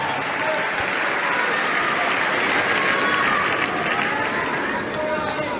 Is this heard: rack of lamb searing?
no